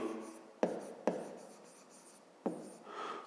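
Pen or chalk writing by hand during a fifth-grade maths lesson, heard as quiet scratchy strokes with three sharp taps as the tip lands, close and alone without talk.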